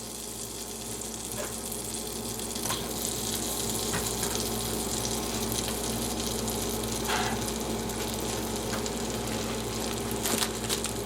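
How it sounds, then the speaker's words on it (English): Apples land in melted butter in a skillet, giving a loud, continuous sizzle and bubbling hiss that fills the whole stretch with a few brief clicks, no talking. "The butter is melted, so we'll throw in the apples."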